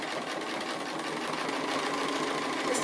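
A sewing machine running a free motion straight stitch around an applique shape, a steady rapid mechanical whirr held without pause, close and clear.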